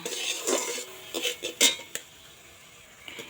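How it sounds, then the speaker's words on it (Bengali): Melting sugar stirred in a pan for caramel for homemade mishti doi: a few brisk clinks and scrapes of a utensil against metal, close and short, then quiet. "এটা কিন্তু ভালো করে নাড়াচাড়া করে ক্যারামেলটা তৈরি করা লাগবে"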